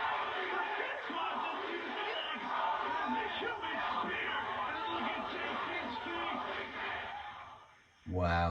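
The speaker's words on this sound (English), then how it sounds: "Wow, the crowd really got hot there." Indie wrestling crowd at a live match roaring steadily, a dense wash of shouts and yells from many spectators that holds for several seconds, briefly dips, then surges again.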